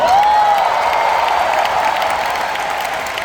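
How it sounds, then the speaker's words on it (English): A national convention audience gives a big round of applause, loud and dense clapping from a large crowd that fades slightly over a few seconds, with a faint cheer mixed in. "you can give me a big round of applause."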